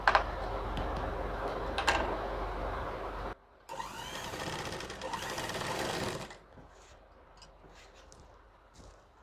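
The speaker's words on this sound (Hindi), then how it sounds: "इसी पे हम सिलाई कर देते हैं सिलाई मजबूती के लिए।" A sewing machine stitches pajama fabric in rapid whirring bursts, fast rhythmic needle chatter close by, with a brief pause and a second run before it stops and quiet handling follows.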